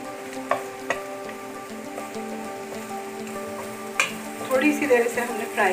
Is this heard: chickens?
no